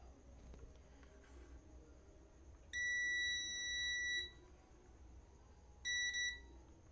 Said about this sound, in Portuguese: Mas desse lado aqui não é para bipar, está bipando.